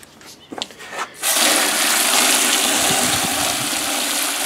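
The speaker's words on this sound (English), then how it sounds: "I'm going to add a little bit more water to this" Water pours steadily into a thick lye and wood-ash mixture for soap making, a continuous splashing gush that starts after a second of faint sounds and holds loud and even to the end.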